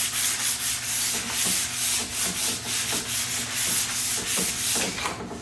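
Steady scrubbing of a wood surface with a fine abrasive pad, roughly 1000-grit equivalent, while building a hanging side table: a continuous close rasping hiss in even back-and-forth strokes, no voices.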